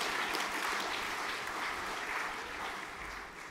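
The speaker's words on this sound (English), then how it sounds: "If we could applaud these young men," Audience applause for the young men at a junior graduation, a soft, fairly distant patter of clapping that holds steady and slowly fades toward the end.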